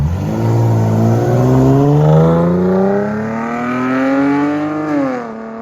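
A 2017 Dodge Challenger 3.6L V6 with Dynomax Race Bullets exhaust revs up close, its raspy note climbing steadily in pitch, holding, then dropping back as the throttle is released.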